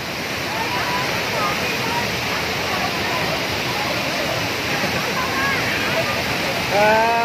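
Steady, loud roar of Taytay Falls in Majayjay, Laguna, a waterfall pouring continuously for the whole stretch, with faint voices of people nearby barely audible under the rushing water.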